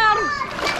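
A child jumps into a swimming pool with a bright splash, close and loud, while a voice is heard over it.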